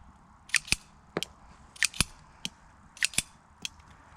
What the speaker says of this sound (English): let's eject our shells out and see how that works